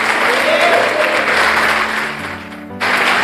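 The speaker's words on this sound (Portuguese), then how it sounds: "dê uma grande salva de palmas ao Senhor" A church congregation gives a big, loud round of applause, dense clapping filling the room close by, easing slightly before a brief swell near the end.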